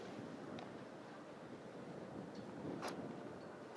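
Steady broadband wind rushing against the microphone on an outdoor disc golf course, a constant roar with faint surf-like swells throughout and no talking.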